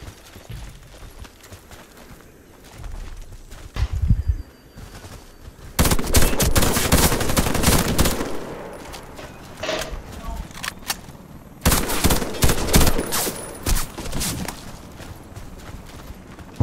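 Warface gunfire erupts in loud, dense bursts, a sustained automatic volley around the middle and another sharp run near the end, separated by quieter stretches of lighter shots and game noise.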